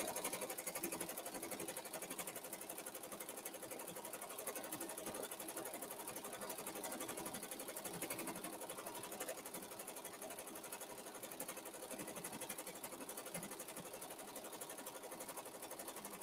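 An embroidery machine runs continuously for a hat setup, giving a dense, steady mechanical whir and rapid needle stitching at an even level throughout, with no talking.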